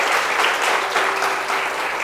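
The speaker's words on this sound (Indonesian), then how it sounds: "Tepuk tangan sekali dong untuk Kemenpora." Audience applause at a youth parade talk show for the youth ministry, a steady, dense wash of many hands clapping in a hall, loud and continuous throughout.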